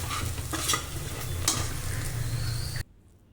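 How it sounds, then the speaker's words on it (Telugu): Chopped onions, green chillies and curry leaves fry and sizzle in oil, a continuous close hiss with scraping stirs, cutting off abruptly near the end. "ఈ విధంగా కలర్ చేంజ్ అయ్యే వరకు కూడా వేయించుకోండి"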